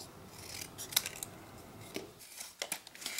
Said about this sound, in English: Just cut these eyes out.